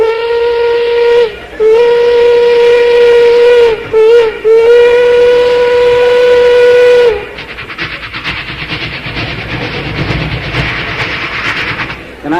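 A voice imitates a steam train whistle far off in the distance, with long wailing tones broken by brief pauses, followed by a softer rhythmic chuffing of an approaching train, all performed vocally.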